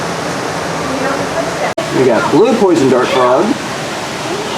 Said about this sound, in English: That's the way they got the water dripping.